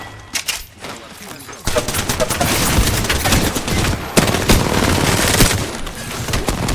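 Rapid automatic gunfire in the battle royale game Apex Legends, a loud, dense stream of shots with heavy bursts that carries on for several seconds after a brief quieter start.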